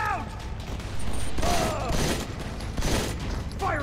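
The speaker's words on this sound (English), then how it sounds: "Firing on the enemy!" Rapid automatic gunfire in the mobile shooter game Modern Combat 4, loud bursts of shots with mechanical clatter, interrupted by brief game dialogue.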